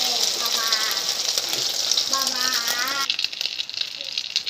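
Egg frying in hot oil in a pan, a steady broadband sizzle with a faint rattle, continuing under a voice speaking throughout.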